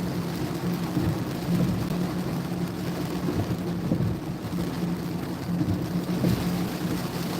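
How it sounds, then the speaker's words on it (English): Heavy thunderstorm rain pours steadily in Iowa, a dense, loud continuous roar of rainfall with a low rumbling undertone throughout, no voices. "Here comes the heavy rain."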